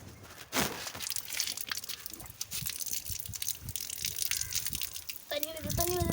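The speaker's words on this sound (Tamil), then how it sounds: "தண்ணி வருது." Water gushes and splashes from a pipe in an uneven, noisy rush nearby, with a voice talking briefly near the end.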